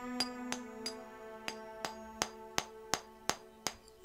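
Repeated hammer-and-chisel strikes on a stone wall in the Pillars of Eternity game, about a dozen sharp metallic clinks at a steady rhythm with ringing tonal overtones, loud and close with no talk over them.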